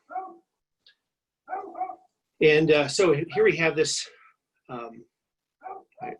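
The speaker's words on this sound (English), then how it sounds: "goofy dog outside barking at the mailman." A goofy dog barks outside at the mailman, a few short distant yaps scattered around someone talking nearby in an oak savanna park.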